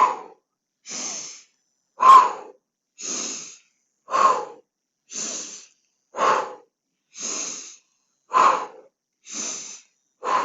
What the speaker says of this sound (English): Big pumping breath. Deep diaphragmatic breathing.